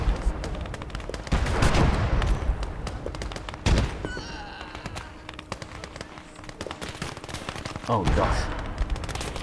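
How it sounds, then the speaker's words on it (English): Dense, crackling machine gun fire and scattered explosions fill a large urban battle in the Gates of Hell video game, a steady chaotic barrage with one voice briefly exclaiming over it. "I forgot about this machine gun that's submerged"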